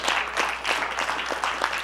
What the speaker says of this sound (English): Give me a hand clap.